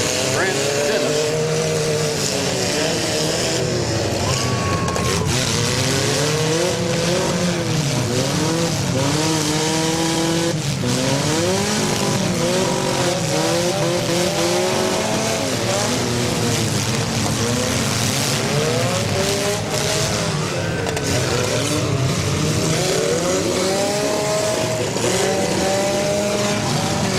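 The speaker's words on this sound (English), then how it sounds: "a pretty good back-to-back and bumper-to-bumper hit between the number 11 of Dustin Buckley out of Albany and that number 62 of Brant Dennis" Demolition derby cars rev and grind at a county fair derby, a loud continuous roar of straining engines with rising and falling pitch, tire squeals and scattered crunching impacts, while an announcer talks over the din.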